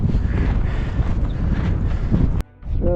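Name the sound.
strong wind on mountain summit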